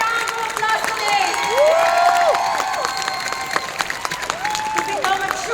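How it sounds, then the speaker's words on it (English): An audience applauds and cheers for a team, with clapping, whoops and shouting voices rising to a peak midway before easing off. "Can we give Team Kayumanggi a round of applause today?"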